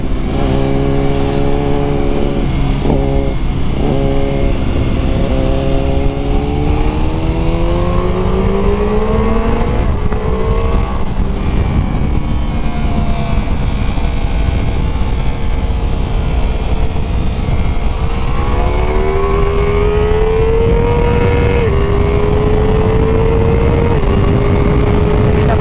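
A 2021 Ducati Multistrada V4S, a 170 hp motorcycle, roaring loud and close on a race track, its engine pitch climbing through the gears with brief dips at the shifts, sustained throughout.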